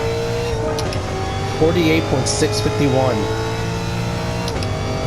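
A Dodge Challenger SRT Demon's engine hums steadily under someone speaking, with a brief rise in engine pitch as it accelerates partway through.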